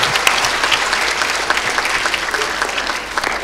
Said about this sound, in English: Could you give her another big round of applause?